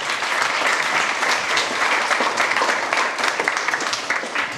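Applause from the crowd at a startup pitch event, LaunchBox 2023, with many hands clapping in a full, steady roar for the whole stretch and no voices over it.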